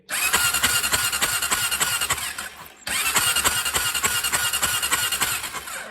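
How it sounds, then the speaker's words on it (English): A 2001 Honda TRX400 ATV engine cranks on its starter button in two steady bursts split by a brief pause, a dense, rapid mechanical churning that stays close and loud without catching to a steady idle. "I'm gonna hit the button real quick. We're gonna see if this bike got spark"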